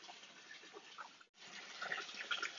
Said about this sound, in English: the water is falling over the top of the standpipe, but it isn't being replenished fast enough for the water level to rise